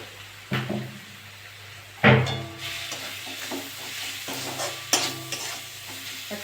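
Spice masala of cumin powder, Kashmiri chili, salt and grated tomato sizzles in a pan for potol chingri, with a spoon scraping and clanking against the pan in a few sharp strokes.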